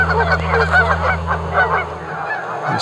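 Canada geese honk repeatedly in a loud, overlapping chorus over a steady low rumble, close by and continuous.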